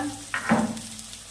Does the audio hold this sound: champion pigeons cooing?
no